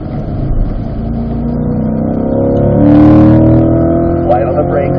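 Race car accelerating on the Spring Mountain track, the engine note climbing steadily as power is squeezed in, loud and close from inside the car, with a voice heard over the engine.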